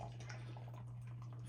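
Martin House beer is fast-poured into a glass, a continuous splashing, gurgling flow with small drips over a steady low electrical hum, no one speaking.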